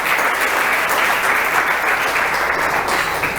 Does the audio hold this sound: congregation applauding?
yes